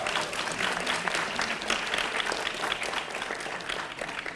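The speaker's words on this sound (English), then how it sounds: "Give yourselves a round of applause." Audience applause at a Model United Nations closing ceremony: a steady, dense wash of clapping from a large room of delegates that holds evenly throughout, with no talking over it.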